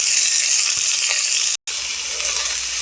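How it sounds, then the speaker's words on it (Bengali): Soya chunks frying in hot oil in a wok, a loud, steady hissing sizzle close by that drops out for a split second midway and then resumes at the same level. "সয়াবিনটাকে ভেজে নেব।"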